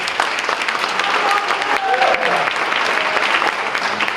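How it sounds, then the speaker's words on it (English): A crowd at a senior banquet claps in a thick, continuous burst of applause, with cheers and voices rising briefly through the middle. "Big round of applause for Dan."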